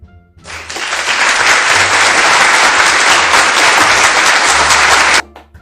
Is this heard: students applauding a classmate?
yes